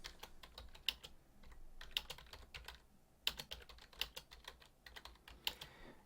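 Fingers tap on a computer keyboard in quiet, irregular bursts of clicks with occasional louder keystrokes, close-miked and faint overall, with no talking.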